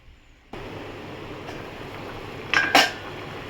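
A lid is set down over a pot of chicken curry, two close metallic clanks near the end over steady low kitchen background noise.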